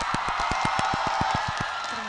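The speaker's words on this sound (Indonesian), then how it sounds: "Mana tepuk tangannya buat Rosalina?" Rhythmic hand clapping from a TV talent show audience, about a dozen even claps in quick succession, with a bright noisy wash of audience cheering behind.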